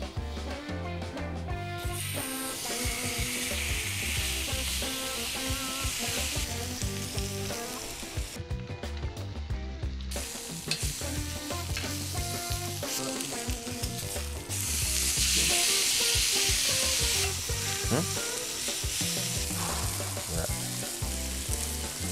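Loud, steady sizzling and crackling of Korean Hanwoo beef steak frying in a hot pan, continuous throughout with occasional scraping and clinking in the mix.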